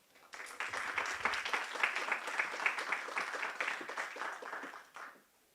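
An audience applauds to welcome a panel at a human rights session, dense steady clapping filling the room for about five seconds before fading out, with no speech over it.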